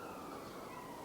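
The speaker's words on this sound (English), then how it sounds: "you can hear the sirens" Emergency sirens wailing steadily, a continuous high tone over a wash of background noise, moderately faint and unbroken with no talking.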